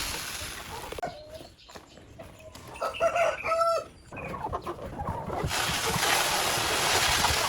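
A farm flock of chickens clucks and calls, and a rooster crows among them. The fowl sound close and fairly loud, and a steady rushing background noise rises toward the end.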